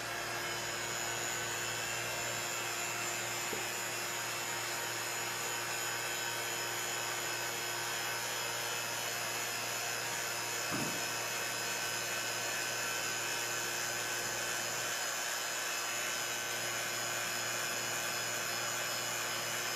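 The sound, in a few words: vacuum chamber pump running with beaker of water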